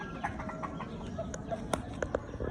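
A hen clucks repeatedly in short, soft bursts against quiet farmyard background, fairly faint and irregular in rhythm.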